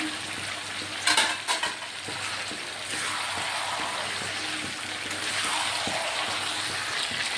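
Fish and potato pieces fry with tomato in a pan, a continuous close sizzle that grows steadier, with a brief clatter of stirring early on and no talking.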